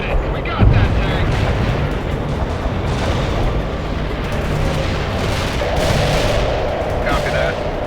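Artillery fire in the video game World in Conflict, heavy rumbling booms and blasts that roll on continuously with a loud thump near the start, mixed with battle noise and radio voices.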